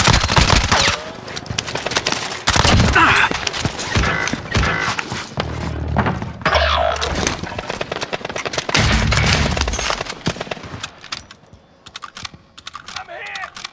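MP5 submachine gun fire in Modern Warfare on Rebirth Island, heard as dense rapid bursts of rattling shots throughout, loud and close, with stretches of game sound between bursts and fading near the end.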